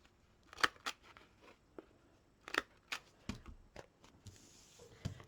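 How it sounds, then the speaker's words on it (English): Scissors snip the angled corners of a paper folio in a few quiet, crisp cuts close by, with faint paper handling between the snips. "go ahead and cut the angled corners on this side now also"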